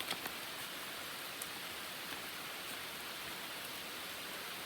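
Steady rain falls outdoors during a California downpour, a dense, even hiss with a few faint drip ticks, constant throughout and no voices.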